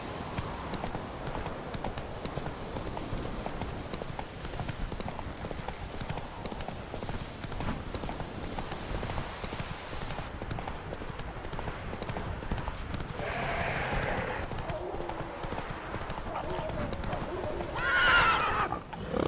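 Horse hooves clip-clopping steadily with a whinny in the video game The Witcher 3, the hoofbeats continuous and close, with a neigh rising near the end over ambient outdoor game sound.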